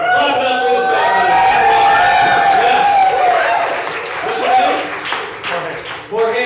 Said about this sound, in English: Clap it up for this guy.